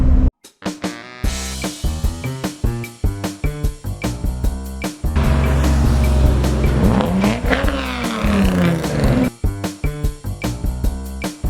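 Porsche racing at the Shelsley Walsh hill climb, loud close engine with rapid staccato pops and revs, then a sustained rising pass, alone without talk.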